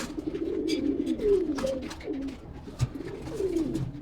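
Pigeons coo close by in soft, repeated throaty rolls, several overlapping calls with a faint flutter or knock in between.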